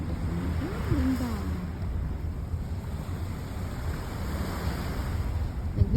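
Sea waves washing onto a beach in Guam, a steady rushing surf with wind buffeting the microphone throughout, fairly faint and continuous.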